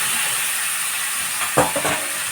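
Tomato pieces frying in a hot pan, a steady loud sizzle with a couple of brief stirring clatters near the end.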